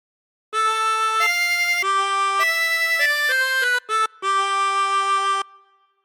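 A 24-hole tremolo harmonica plays a phrase of God Defend New Zealand, a run of sustained, steady reedy notes stepping up and down with brief breaks near the end, heard alone and close.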